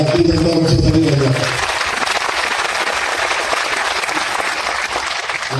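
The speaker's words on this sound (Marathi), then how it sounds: "जोरदार टाळ्या भारतीय जनता पक्षासाठी वाजवा." Loud crowd applause at a Bharatiya Janata Party political gathering in Mhaswad, a dense steady wash of many hands clapping that begins over a voice trailing off at the start and continues unbroken to the end.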